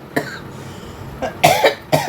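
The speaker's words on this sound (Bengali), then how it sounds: "আজকে একটু কাশি হচ্ছে আমার" Several sharp coughs close to the microphone: one early, then a cluster of two or three harsh coughs toward the end, with quiet pauses between.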